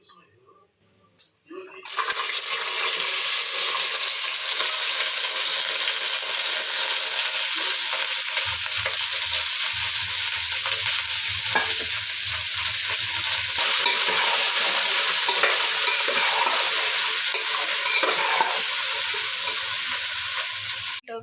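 Okra frying in a little oil while being stirred, a steady broadband sizzle that starts abruptly after a quiet second and holds loud and close for the rest, with faint scraping of the spoon in the pan and no talk.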